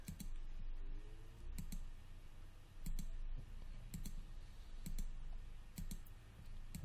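Mouse clicks while placing curve points in Maya, a series of sharp, quiet single clicks spaced irregularly about once a second over a soft background hum, no voices.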